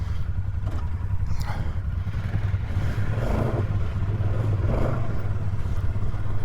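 Motorcycle riding through Johnson Valley, a steady loud engine rumble with a constant low drone and faint clatter running throughout.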